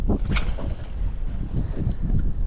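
Wind buffets across an open fishing flat, gusting and rumbling low against the microphone in a continuous, blustery roar, with no talking.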